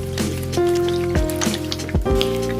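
Chicken drops into a pan of sautéed spice paste and sizzles steadily, with crackling spits, a few clattering stir knocks, and a sustained low hum underneath.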